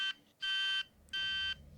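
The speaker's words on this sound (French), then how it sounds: "Mon alarme sonne." Alarm clock beeping as a sound effect in a horror story, two loud, even electronic tones with a brief gap between them, alone and close.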